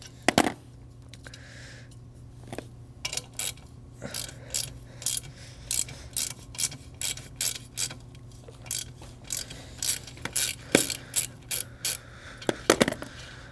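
Ratcheting and metallic clicking from a 10 mm Allen key working a plug out of a VW GTI/Golf R/Audi A3/S3 downpipe, heard as a long run of short, close, regular clicks and taps with brief pauses and no talk.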